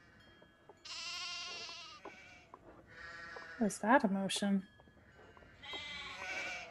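Sheep bleating in the Nancy Drew game The Haunting of Castle Malloy: several wavering, harmonic bleats come in bursts, one loud cluster mid-clip, heard between and under people talking.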